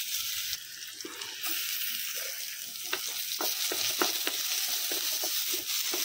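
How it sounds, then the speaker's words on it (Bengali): Chopped onions fry in a pan with a steady bright sizzle while a spatula stirs them, giving a run of rhythmic scraping taps that grows busier in the second half. "এখন দিয়ে দিলাম পেঁয়াজ কুচি, একটু নাড়াচাড়া করে নিই"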